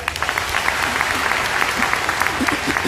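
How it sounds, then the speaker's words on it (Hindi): An audience at a Pehchan event in Vadodara bursts into sustained applause, a dense, steady wash of many hands clapping close and loud for the whole stretch, with a few sharper claps standing out. "तालियां होनी चाहिए।"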